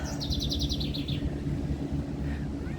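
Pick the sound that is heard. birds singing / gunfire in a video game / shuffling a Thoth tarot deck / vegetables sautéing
birds singing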